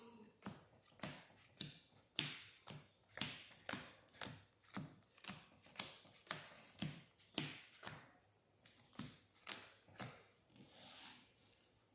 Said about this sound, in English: Do my power shuffle.